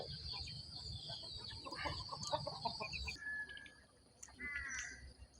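Poultry calls at a duck farm set in a bamboo grove: faint, scattered clucks and squawks from several birds, with a couple of sharper calls near the end, quiet and without talk.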